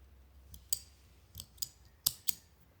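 Scissors snip crochet yarn in a few sharp, close clicks spaced unevenly across a quiet background, with two quick snips near the end.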